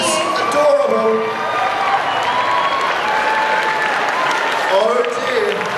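A convention crowd at a cosplay contest applauds and cheers for a child dressed as Bumblebee from Transformers, with lively clapping, scattered whoops and a host's amplified voice talking over it.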